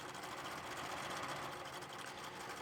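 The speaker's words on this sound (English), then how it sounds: "So underneath your sewing machine, put down the foot, hold the back threads, and start stitching without any back tacks" Sewing machine stay stitching along a muslin neck edge, a steady rapid mechanical whir running evenly and alone throughout, fairly quiet and close.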